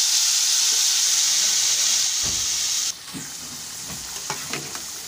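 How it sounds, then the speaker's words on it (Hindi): Masala frying in a pan, a loud steady sizzle and hiss, then scraping stir strokes and clatters as the mixture is turned, close and clear. "मसाला तैयार हो गया है और इसको अच्छी तरह भून देते हैं पहले"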